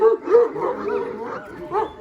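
Kangal dogs on a farm bark and yip excitedly as their food is handed out, several short bursts near and loud with whimpering in between, and a voice mixed in.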